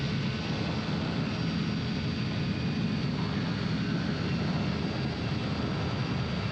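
An AirBike ultralight aircraft engine drones steadily and loudly in flight, a dense continuous roar mixed with wind rush and no breaks.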